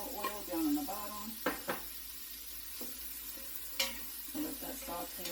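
Onions sauté in avocado oil with a low sizzle, broken by clinking knocks and scrapes of a utensil against the pan and brief murmured voice sounds in the background.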